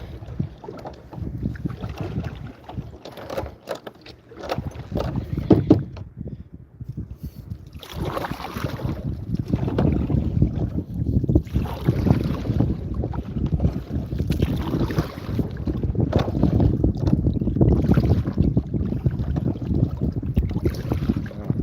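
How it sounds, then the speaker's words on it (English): A kayak paddled out on the ocean while turning around gives uneven splashes and water swishes, heard close and under heavy wind buffeting the microphone. "Right, let's turn this boat around"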